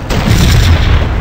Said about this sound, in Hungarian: És úgy van, városháza ajtaját felrobbantottuk.